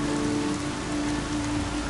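Steady rain pours in the video game Horizon Zero Dawn, a dense, even hiss of drops on surfaces that fills the whole moment without pause, with a low hum running beneath it.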